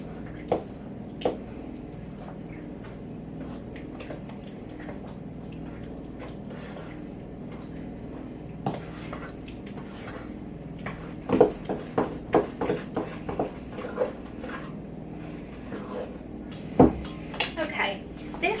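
A spoon clinks and scrapes against a bowl while thin cake batter with added oil is mixed; the stirring is steady and muted at first, then sharper clattering taps come in short bunches toward the end.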